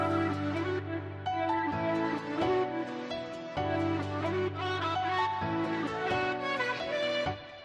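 An EDM track made in FL Studio, with piano chords and a chopped vocal sample joined by an entering synth. The dense layered music plays loudly and continuously, with no talking.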